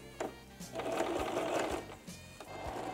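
A sewing machine stitching a backstitch, a close rapid mechanical whirring with short pauses and restarts as the stitching direction reverses.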